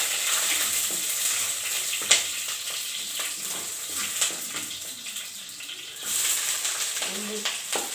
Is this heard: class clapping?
no